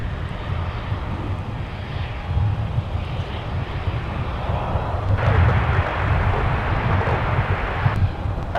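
A jet airliner roars on takeoff from a runway at Minneapolis–St. Paul airport, a steady distant engine rumble with wind noise that swells slightly toward the end.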